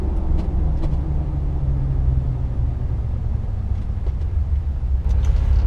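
Jeep JK Wrangler with no lift on 33-inch Radar Renegade mud tires, driving toward a red light: a steady, loud low rumble of engine and road noise with a faint tonal drone, continuous and close, with no talk.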